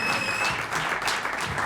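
Audience applause at an Ethiopian interview event welcoming a guest, a dense, moderate clatter of many hands clapping steadily throughout with no pause.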